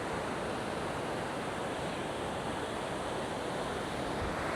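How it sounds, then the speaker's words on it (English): Rough, stormy ocean waves roll onto My Khe Beach in Da Nang, a dense unbroken roar of surf mixed with heavy wind buffeting the microphone. "The ocean is very rough today again"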